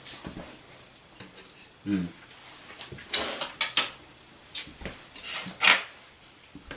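A knife scrapes and clinks against a dish while lifting out a warm slice of ricotta cheesecake with a graham cracker crust, giving several short, close scraping and tapping sounds at an uneven pace.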